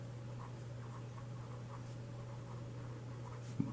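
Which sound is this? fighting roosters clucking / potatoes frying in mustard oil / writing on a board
writing on a board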